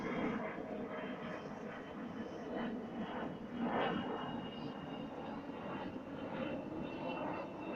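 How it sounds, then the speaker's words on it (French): Airplanes flying overhead in an outdoor setting, a continuous distant engine drone and roar that swells slightly at moments, sustained and fairly faint with no voices. "Il y a des avions qui nous cassent les oreilles."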